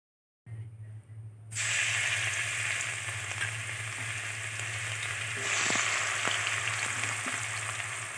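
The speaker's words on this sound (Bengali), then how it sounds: "পেঁয়াজ আর রসুনটা দিয়ে দেবো।" Onion and garlic hit hot oil in a wok, a quiet start giving way to a loud, steady sizzle that swells slightly near the end, with no talking.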